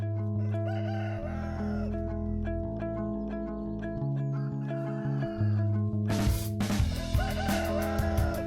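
Free-range Cruceño roosters on a farm, one crowing loudly and close with a long, strained cock-a-doodle-doo near the end, over a steady bed of background music.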